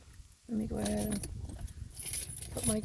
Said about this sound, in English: put my keys away for now.